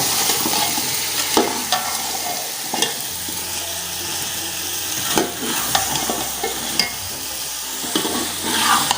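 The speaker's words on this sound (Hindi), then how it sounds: "अभी कर देते हैं सभी को मिक्स अच्छी तरह।" A cauliflower, carrot and potato curry sizzles in a pot while being stirred and mixed, with irregular scrapes and knocks over a continuous frying hiss, close up and without speech.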